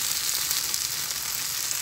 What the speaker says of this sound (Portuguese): olha o barulhinho dele fritando